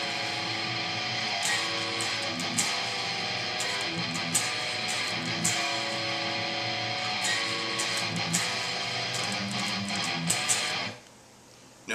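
Distorted electric guitar playing a metal rhythm riff built on inverted power chords, dense and chugging with sharp accents, steady for about eleven seconds before ringing out and stopping.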